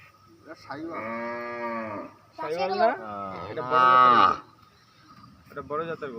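Sahiwal cross cattle give several long, loud moos in close succession, each drawn out with a strained, wavering tone, with a short gap before a final shorter call.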